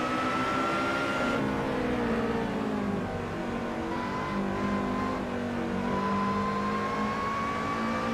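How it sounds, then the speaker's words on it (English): A Lotus race car in Assetto Corsa screams along with a loud supercharger whine, the rising and falling pitch tracking gear changes and throttle over a steady engine drone. "Superchargers, again, super loud in all the Lotus cars"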